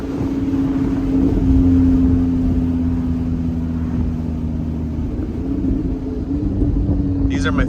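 A Lamborghini cruises with the top down at sunset, its engine a steady, loud low drone with wind rumble, a voice talking over it briefly.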